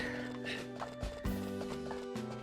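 Horse hooves clopping in the farming game Harvest Moon A Wonderful Life, a steady mid-loud rhythm of hoof steps running under continuous game music.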